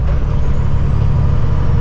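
A big concrete truck's loud exhaust pipes rumble in a steady, heavy low drone, close and loud throughout with no break, as the engine is revved before pulling away.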